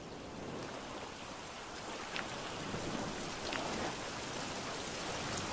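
Steady, dense rainfall in the survival video game Survival: Fountain of Youth, a continuous hiss of drops hitting the ground that holds at an even level throughout, with no voices.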